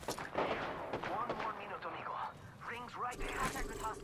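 Gunfire in Apex Legends crackles in rapid bursts alongside players talking over each other in Portuguese, with busy overlapping voices throughout.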